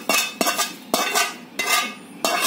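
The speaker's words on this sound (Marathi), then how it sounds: "आता हे तीळ घालते मी त्याच्यात, म्हणजे भाजते" Sesame seeds roasting in a pan are stirred with a utensil, giving about five sharp scraping strokes over a dry rattling hiss, loud and close, with no talking.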